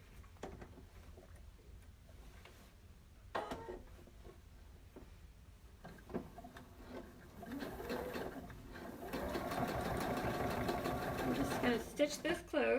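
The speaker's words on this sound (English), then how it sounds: "I'm going to top stitch right here, and then I'm going to do the front also" A sewing machine topstitches denim jeans being made into a skirt, with faint clicks and short bursts early on, then a louder, steady run of stitching near the end under soft background talk.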